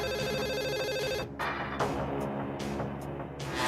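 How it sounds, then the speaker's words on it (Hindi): A telephone ringtone plays loud and steady for a few seconds, with a melodic, tonal pattern and no talking. "मल्होत्रा का फोन है।"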